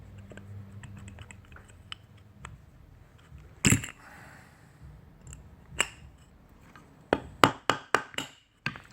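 A bearing is knocked out of a Trikke rim with a piece of wood, giving a few scattered hard taps and then a quick run of sharp knocks near the end, over a quiet background.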